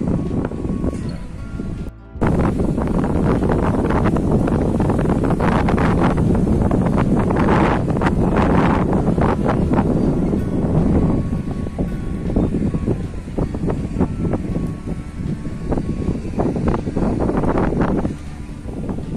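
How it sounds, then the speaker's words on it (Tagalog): Cold, blustery wind at Marina Lusail, a seaside yacht harbour, buffets the microphone in a steady loud rush with gusty swells, dropping out briefly near the start and then roaring on without pause. "Presko dito, nahangin. Lamig pa. Lamig na hangin."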